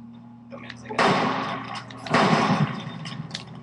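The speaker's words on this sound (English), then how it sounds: "See, easy two-shot kill with the hunting rifle." Two loud hunting rifle shots from Fallout New Vegas ring out about a second apart, each with a lingering echoing tail.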